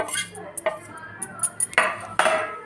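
A spoon stirs coriander powder, cumin powder and red chilli powder into aloo chaat in a bowl, giving a run of close, irregular metallic scrapes and clinks against the dish.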